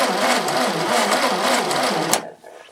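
A Dodge engine cranks steadily in a fast, buzzing rhythm, loud and close, nearly catching before abruptly cutting off into quiet.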